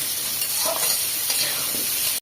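Pumpkin pieces frying and being stirred in a pan, a steady loud sizzle with scraping stir strokes throughout.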